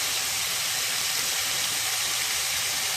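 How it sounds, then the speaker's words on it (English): Chicken and vegetables sautéing in a pan, a steady, even sizzle with a constant bright hiss and no pauses. "we'll probably let this saute for about 10 minutes"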